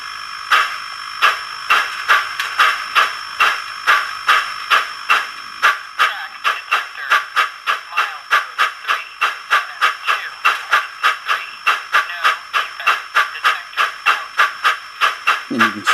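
Soundtraxx Tsunami2 sound decoder in a brass 2-10-0 model steam locomotive, giving loud rhythmic steam chuffs that start spaced and quicken into a steady fast beat, with a constant hiss underneath.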